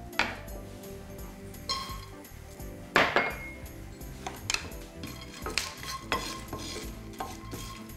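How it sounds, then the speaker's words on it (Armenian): Apricot kernels roasting in a dry frying pan give off clinks and scraping stirs against the metal, with one sharp louder clatter partway through and steady faint kitchen rattling. "Ազատված տապակի մեջ կբովեմ ծիրանի կորիզը։"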